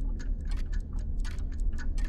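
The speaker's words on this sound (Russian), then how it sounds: "Ага, слышишь, часы?" A clock ticks in the video game MADiSON, an even, steady pulse of sharp ticks set against a low, constant rumbling ambience.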